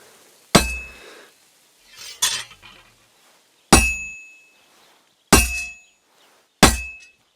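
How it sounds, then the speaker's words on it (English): Metal hammer blows strike a sword on an anvil in a Kingdom Come Deliverance 2 blacksmithing scene, five loud ringing clangs spaced about a second and a half apart, each with a bright metallic decay and no speech. "When I hammer a piece to a beat, the work goes by easier."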